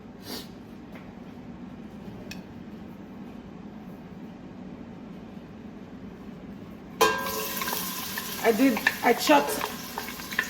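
Onion and thyme drop into a hot pan for oxtail stew over medium heat, bursting into a loud, crackling sizzle partway through after a quiet stretch, with sharp spits and pops near the end.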